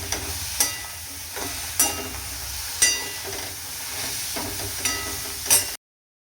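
Cluster beans fry on a high flame in a pan, a steady loud sizzle broken by about five sharper surges as they are stirred and tossed, with no voices, then an abrupt cutoff.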